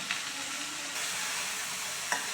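A masala mixture being sautéed in a pan gives a steady, moderately quiet sizzle with a couple of brief spatula scrapes near the start and end; no voices.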